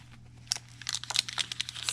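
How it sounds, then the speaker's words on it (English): Paper crinkles and crunches up close, a quick series of crisp rustles with a low hum beneath. "another little piece of crunchy paper"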